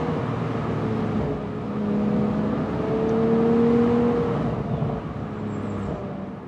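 A BMW Z4 M40i with a six-speed manual pulls hard through its gears, the engine note rising steadily through a loud middle stretch and then easing slightly, with no talk over it.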